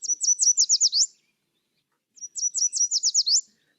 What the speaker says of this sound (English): Let us use the yellow warbler as an example of vocal quality.